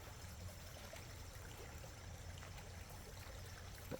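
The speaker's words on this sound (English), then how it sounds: "if you can hear it, what you call a babbling brook" A park stream flows steadily along a creek that runs for miles into a river, its faint, continuous watery babble holding even throughout with no voices.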